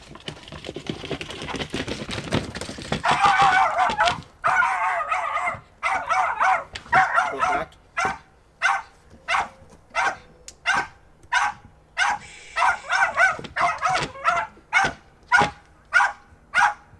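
A hunting dog barks during earth-dog training at a hunting club, first in dense muffled bursts, then in a steady series of sharp, evenly spaced barks, fairly close with quiet surroundings.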